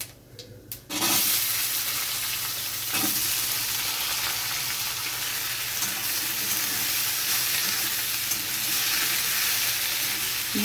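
Sliced tomatoes, potatoes and onions fry in a pan while a metal spatula stirs them, a steady loud sizzle running throughout with a few scraping strokes, no voices.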